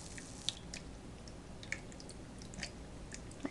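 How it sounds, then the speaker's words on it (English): Thawed frozen garden tomatoes are scooped from watery juice, giving soft wet squishes and a few sharp drips and splats over a quiet, steady background, close and fairly faint. "So I'm going to scoop these all out."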